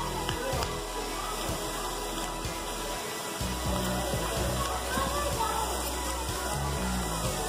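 A waterfall at a botanical garden splash pad gives a steady, close roar of falling and splashing water that fills the whole stretch without a break.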